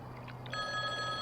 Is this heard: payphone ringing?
yes